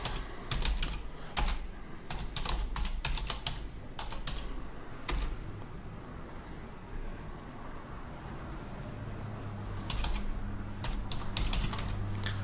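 Typing on a computer keyboard while entering free-text instructions in SAP software, a steady run of close, crisp key clicks in bursts with brief pauses, no voices.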